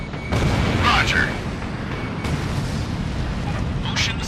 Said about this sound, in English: Naval gunfire!